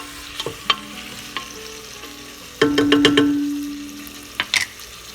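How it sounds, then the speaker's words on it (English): Diced pork coated in spices frying in a pan, a steady sizzle broken by a few clanks and a burst of stirring and scraping midway. "we're going to cook up that diced pork meat for approximately 5 to 8 minutes"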